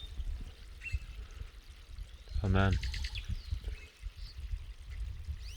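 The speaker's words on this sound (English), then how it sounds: "You hear that? It's like water flowing down here." Water streams down a rock wall along a Bolivian trail, a steady, close, continuous rushing wash with no breaks, briefly interrupted by a man's short exclamation midway and faint bird calls in the background.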